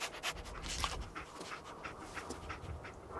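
A dog in the Fallout 4 video game panting in quick rhythmic breaths, close and moderately quiet, with a few faint whimpers and no talk.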